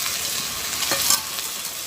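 Fresh green chilies drop into leafy greens frying in a pan in a village kitchen, giving a steady close sizzle with faint stirring scrapes and one brief louder burst partway through.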